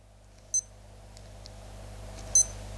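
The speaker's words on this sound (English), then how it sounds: "when you push the buttons in, there's a weird aftertone note" A Casio-style smart watch gives two short, high electronic beeps about two seconds apart, each a button-press tone with a faint lingering aftertone, quiet and close over a low background hum.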